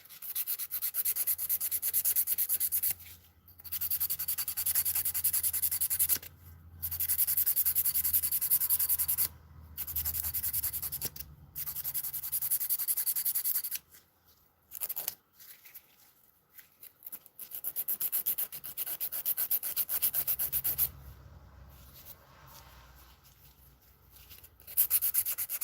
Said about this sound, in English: the filing process can be a bit,